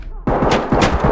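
Rapid gunfire in the tactical police shooter game Ready or Not, a loud, close burst of several shots in quick succession after a brief quiet moment.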